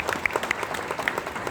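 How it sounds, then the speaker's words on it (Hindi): An audience at a stage talk gives a brief round of applause. The clapping is quiet and scattered and fades quickly. "दे सकते तालियां"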